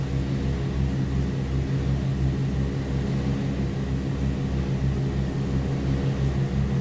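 A piston aircraft engine drones steadily in flight, with a pulsing low propeller throb and constant loud cabin roar filling the whole stretch without a break.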